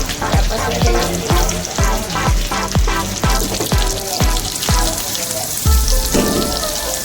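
Garlic fries in butter in a pan with a loud, steady sizzle and crackle, broken by a series of sharp metallic knocks from a utensil stirring against the pan.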